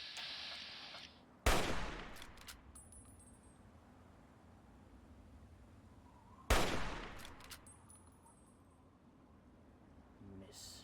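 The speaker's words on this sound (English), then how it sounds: "It's so pointless to be exchanging bullets here." Two sharp, heavy gunshots ring out about five seconds apart in a Fallout 3 firefight inside the Museum of Technology, each with a long fading tail over a quiet background.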